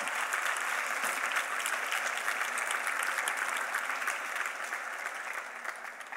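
Steady applause from a congregation at a church sermon, a continuous wash of many hands clapping at moderate distance that eases slightly toward the end.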